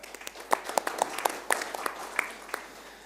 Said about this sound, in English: So give an applause for Are